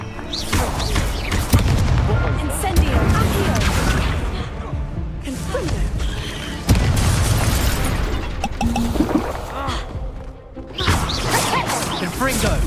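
Repeated Confringo blasting-spell explosions in the Hogwarts Legacy video game, loud booming bursts and whooshes one after another amid dense combat noise, with a voice calling out spells in between.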